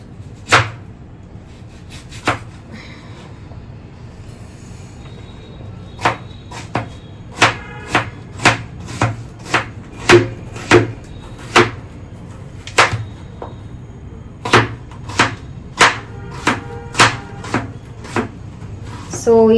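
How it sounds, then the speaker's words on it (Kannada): Onions being chopped with a knife on a board, loud and close, a steady series of sharp single thuds that speeds up toward the end over low kitchen background hum. "ಈಗ ಈರುಳ್ಳಿ ಕಟ್ ಮಾಡ್ಕೊತಾ ಇದ್ದೀನಿ"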